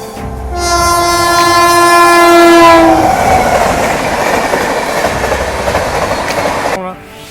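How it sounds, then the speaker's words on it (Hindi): The Sealdah Rajdhani Express blasts its long horn close by and then thunders past, wheels clattering loudly over the rails until the train has gone by. "सियालदह राजधानी एक्सप्रेस।"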